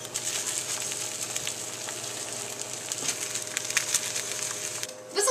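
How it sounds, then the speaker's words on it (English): An egg frying in a pan gives a steady, soft sizzle with fine crackling pops throughout, fairly quiet and close, ending in a brief louder scrape or clatter. "My egg should sizzle"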